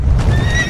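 A horse neighs loudly and close up in a short, shrill whinny, standing in for the fiery horses pulling a chariot of fire.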